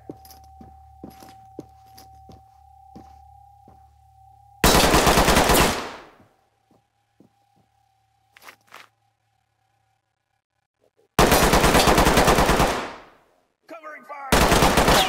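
Video game machine-gun fire rips out in two long, loud bursts with a shorter third burst at the end, separated by quiet stretches holding faint clicks and a steady tone.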